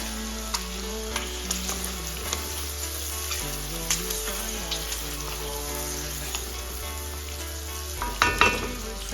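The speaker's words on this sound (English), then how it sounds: "So here is my prawn. It's frying really well." Steady sizzling of prawns and onion frying in a pan, with occasional stirring clinks, heard under soft background music.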